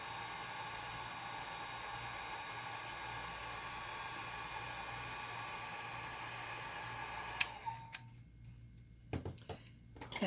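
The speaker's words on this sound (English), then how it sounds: "I'm going to put my blow dryer on the low setting so that it doesn't blow that ink all over the place" A blow dryer on its low setting used to dry alcohol ink runs as a steady close whirring hiss, then cuts off, followed by quiet clicks and handling noises.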